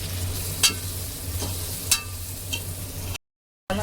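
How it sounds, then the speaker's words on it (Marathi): Chopped onion and tomato sauté in hot oil in a pan for masale bhat, giving a steady close sizzle broken by a few sharp scrapes of a stirring spoon, then a brief silence before the frying resumes. "आता आपण याच्यात टोमॅटो घालून घेऊ. टोमॅटो सुद्धा व्यवस्थित परतून घेऊ."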